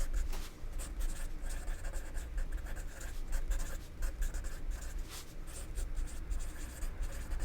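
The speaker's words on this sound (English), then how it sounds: "I'm going to write typically the first to arrive to the feeder." Pen scratching across the paper of a nature journal sketchbook, a continuous soft rustle of short strokes, close and quiet with no talk.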